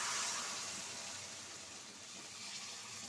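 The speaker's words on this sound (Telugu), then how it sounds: "ఇది కూడా ఇప్పుడు గోల్డెన్ బ్రౌన్ కలర్లోకి ఫ్రై అయిపోయాక హాట్ వాటర్ని వేసేసుకోవాలి." Hot water is poured into a pan of golden-fried ingredients, giving a steady hissing, gushing pour that fades slightly and continues at moderate volume without voices.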